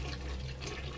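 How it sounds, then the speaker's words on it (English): A toilet flushes in the video game Bioshock Remastered, a dense, steady rush of water for about a second, quiet and continuous. "Flush all the toilets."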